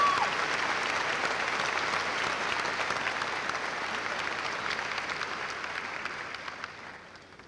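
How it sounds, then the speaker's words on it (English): Graduation audience applauding for the graduates' accomplishments: a steady wash of many hands clapping, fairly loud and even, slowly tapering toward the end. "please give a round of applause for the accomplishments of these people"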